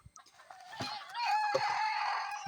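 A native village hen clucks and cackles nearby, a few short notes building into a longer drawn-out call.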